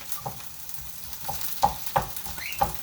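Onions cooking in a pan, a soft frying hiss broken by a few scraping stirs at a steady, unhurried pace, close by with no talk.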